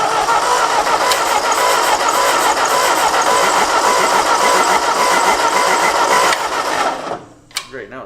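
An old engine on an abandoned farm runs steadily and loudly after its throttle is hooked to the governor, a continuous mid-pitched drone that cuts out abruptly near the end, leaving brief clatters.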